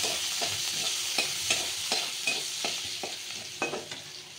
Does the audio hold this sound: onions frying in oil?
yes